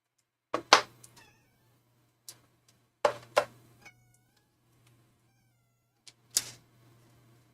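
A domestic cat meows close by indoors, giving several short, distinct meows in separate bursts with quiet gaps between them.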